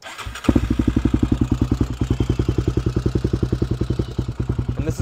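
A 2003 Honda 400 EX ATV, stock except for a White Bros exhaust, barks to life and settles into a loud, close, rhythmic single-cylinder idle, each rapid pulse sharp and evenly spaced.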